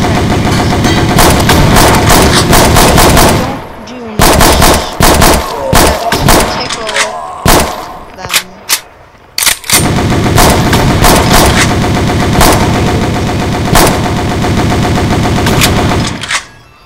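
A World War II Pacific Front weapon fires in a video game in long, loud automatic bursts broken by heavy thudding blasts and brief pauses, with a voice talking at times between the volleys.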